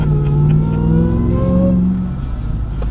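Demon Hemi-powered Jeep Gladiator V8 engine revving loudly up and down close by, a deep, steady mechanical roar with no talk.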